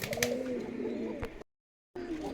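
Pigeons coo in deep, throaty rolling calls at a pigeon seller's loft, the sound close and steady, broken by a brief silent gap before the cooing resumes.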